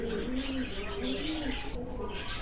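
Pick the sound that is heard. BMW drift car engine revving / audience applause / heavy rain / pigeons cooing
pigeons cooing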